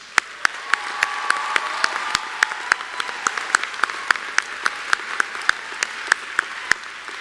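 Graduation audience at a 2022 community college commencement breaks into sustained applause, a dense wash of clapping with sharp individual claps standing out, fairly distant in a large hall and slowly thinning toward the end.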